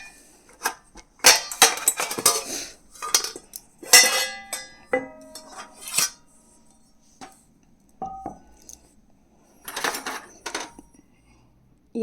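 Heavy brass puja plates, bowls and lamps being handled and set down, giving bright metallic clinks and clatters in separate bursts with quiet gaps between them.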